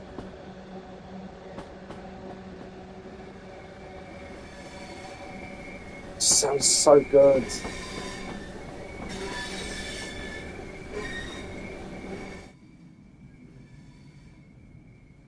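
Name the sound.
Class 465/9 train going over points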